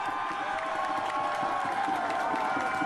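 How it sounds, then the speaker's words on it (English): A wrestling crowd roars in a continuous wash of cheering and shouting at a Canadian wrestling match, steady and loud from start to finish. "The crowd on their feet"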